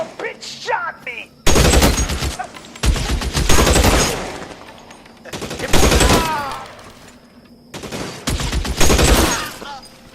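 Loud bursts of rapid gunfire in an LA Noire shootout, several long volleys of machine-gun and rifle fire separated by short pauses, with shouted voices in the gaps.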